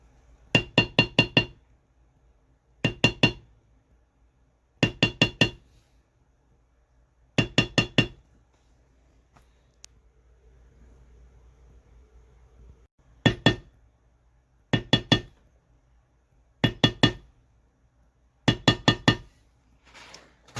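A shader stamp is struck with a mallet to shade tooled leather in a serpentine design, sharp metallic taps coming in quick clusters of three to five, repeated at steady intervals with a short quiet pause midway.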